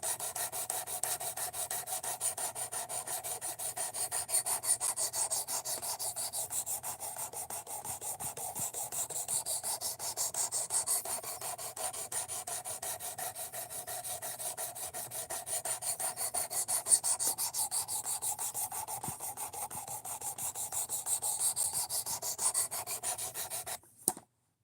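A knife is drawn repeatedly across a sharpening stone to raise a burr, making a steady, close rasping rub that continues almost without a break, fairly quiet, with no one talking.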